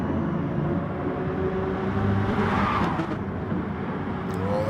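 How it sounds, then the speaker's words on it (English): Race cars circling the Brands Hatch GP circuit in a Super 2 sprint race, a steady loud engine drone with rising whine as cars accelerate past, fairly close and continuous throughout. "Look at Shane Scott's car getting sideways through there"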